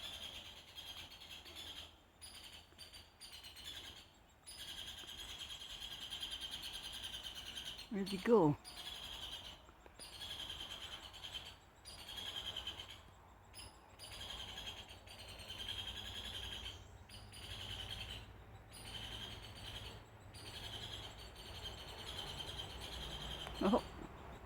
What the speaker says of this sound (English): That's a woodpecker.